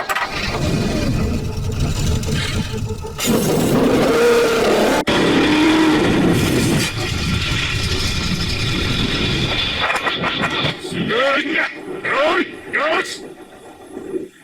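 Race car engines starting up and revving, loud and layered with roaring bursts and a whooshing pass-by near the end, mixed with voices and a shouted start call.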